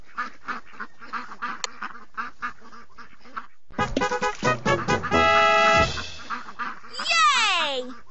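Baby ducks in a Dora the Explorer game quack in a rapid run of bright calls, answered by a brassy honking flourish and a rising sweep, after cheerful voices talk.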